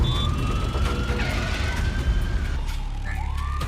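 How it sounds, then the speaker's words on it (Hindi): A police or ambulance siren wails in rising and falling sweeps from a short distance away, over a low rumble of traffic, with no talking. "ये पुलिस लग रही है, एम्बुलेंस।"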